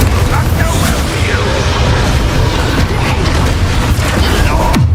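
Confringo fire-blast explosions in Hogwarts Legacy, heard as a dense, loud barrage of low booms and crackling bursts that rumble continuously with no pause.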